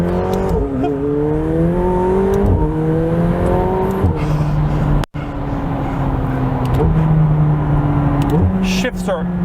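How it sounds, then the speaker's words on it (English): A McLaren hypercar drives around a bend, its turbocharged engine rising and falling through gear changes with a high turbo whistle riding over the close, loud engine note, while someone talks over it. "the turbo note, the whistle from the turbochargers is one of the coolest sounds that I have heard"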